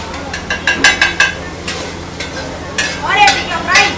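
Lachha paratha frying on a griddle at a Kolkata food stall, a close sizzle under a run of rapid metallic scrapes and taps from a spatula.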